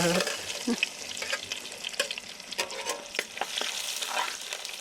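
Mustard seeds sputter in hot oil with irregular crackles and pops over a soft sizzle, with occasional stirring clinks, fairly close and moderately quiet, alone without speech.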